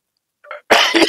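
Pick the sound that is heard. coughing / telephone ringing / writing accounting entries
coughing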